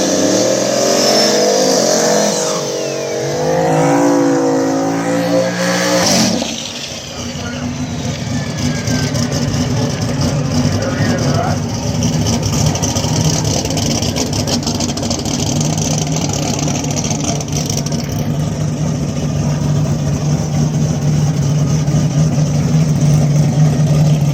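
A turbocharged Mustang and a turbo LS-powered car launch side by side in an outlaw small-tire drag race at Mooresville, engines roaring loud and sustained as they run down the strip, with an announcer talking over them.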